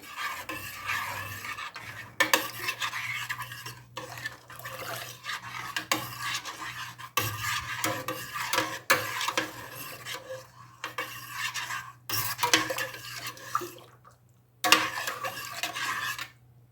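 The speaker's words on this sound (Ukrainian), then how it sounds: "Добре розмішую, щоб розчинився цукор та сіль." A spoon scrapes and clinks against a metal pot in repeated stirring bursts, mixing sugar and salt into tomato juice, with short pauses between strokes and a faint low hum underneath.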